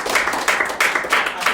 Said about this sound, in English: Round of applause for Brad.